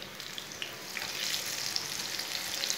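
Eggplant (baingan) slices fry in a pan with a steady, close sizzle and fine crackling pops that hold even throughout, with no one talking.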